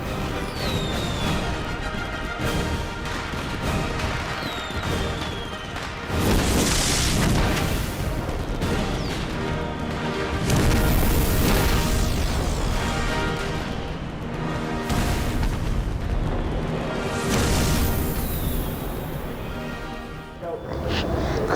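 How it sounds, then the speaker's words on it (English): Fireworks and explosions in a V for Vendetta film scene make a dense, continuous roar of booms and crackling bursts, loud and sustained, with swelling surges mixed with a score and other film sound. "Fireworks."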